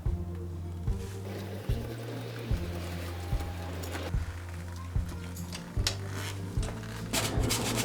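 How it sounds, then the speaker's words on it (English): A steady, rhythmic rubbing and scraping repeats roughly every second as a Smart Fortwo rear brake shoe drags against its turning drum, close and moderately loud. "You can hear and feel the shoe touching the drum."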